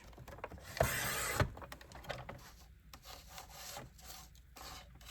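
Paper cards being trimmed along the edge in a craft setting, faint dry scraping and rubbing strokes, one louder sustained cut near the start followed by softer intermittent scratches.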